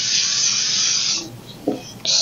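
An aerosol can sprays over super-glued wood while a push block is being made: one sustained hiss of about a second, a pause, then a second short burst.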